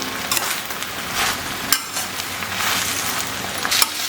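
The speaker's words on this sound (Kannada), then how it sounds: "ಇದೊಂದು 5-6 ನಿಮಿಷ ತಗೊಳುತ್ತೆ ಇದು ಚೆನ್ನಾಗಿ ಫ್ರೈ ಆಗೋಕ್ಕೆ" Kuk leaves with onion and tomato fry in a pan for curry, giving a steady broadband sizzle with occasional stirring clinks and scrapes, close and continuous throughout without any voices.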